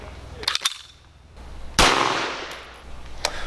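AMT AutoMag II pistol in .22 Winchester Magnum firing outdoors, a few sharp cracks spaced over a few seconds, one loud close report with a brief ringing tail, plus lighter clicks.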